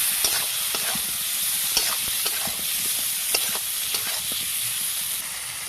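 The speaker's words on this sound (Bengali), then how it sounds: "মশলাটা ভালো করে কষিয়ে নেব" Spice paste with raw mango and chilli powder being stirred and fried in a pan for a hilsa dish: steady close sizzle with repeated scraping stirs, no talk.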